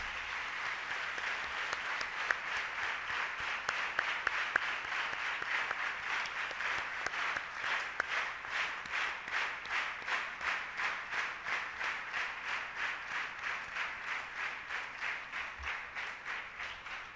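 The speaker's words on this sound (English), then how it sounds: "let us give a big round of applause for madam" A hall audience at a university space-science lecture gives a big round of applause for an ISRO scientist, a full, even clapping that settles into a rhythmic, synchronized beat toward the end.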